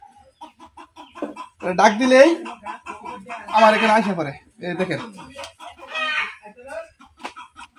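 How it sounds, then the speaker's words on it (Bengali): Native village hens cluck and call under a man's steady speech, their short clucks mixed in close by throughout. "এটা আমাদের দেশি মুরগি।"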